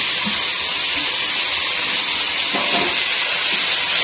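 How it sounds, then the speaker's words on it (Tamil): Vegetables including beans and cabbage stir-fry in a hot pan for veg hakka noodles, giving a loud, continuous sizzling hiss with a few soft clatters of stirring. "எல்லாத்தையும் 2 நிமிஷம் நல்லா ஃப்ரை பண்ணிக்கலாம்."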